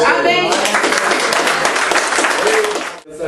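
A church congregation bursts into loud, dense clapping that carries on for about three seconds and then stops abruptly, with voices mixed in beneath the applause.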